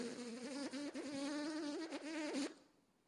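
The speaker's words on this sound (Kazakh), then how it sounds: "Менің ұйқымды масалар бұзды." Mosquitoes whine close to the ear, a thin, wavering buzz that rises and dips for about two and a half seconds before cutting off into quiet.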